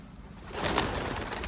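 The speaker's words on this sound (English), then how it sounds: "Look at that big pigeon." Pigeons cooing outdoors: a short, soft burst of cooing rises out of quiet background noise and holds to the end.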